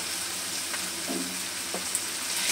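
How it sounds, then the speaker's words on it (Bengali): Spiced fish frying in a pan for a Bengali fish finger recipe, a steady hiss and sizzle with a few faint stirring scrapes, heard alone without talk. "আর একটু ভালোভাবে কষে নিচ্ছি"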